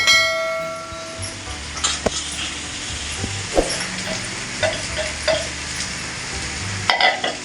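Rice is stirred with chillies and chilli sauce in a hot pan, giving steady scraping and sizzling that runs throughout, with a few sharper clinks of the spoon against the pan and no speech.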